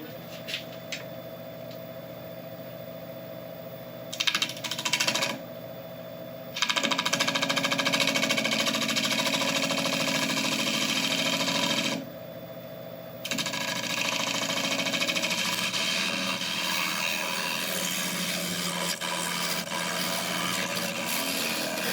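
A wood lathe spins a beech bowl as a bowl gouge cuts it, making a continuous close scraping and rushing hiss with a steady motor hum that briefly drops and returns as the cut starts and stops, with no talk.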